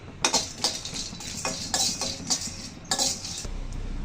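Whole spices, cloves with garam masala and cardamom, dry-roasting in a kadai, heard as brisk, rhythmic metallic scrapes and clinks of a spatula stirring against the pan, repeating roughly every half second.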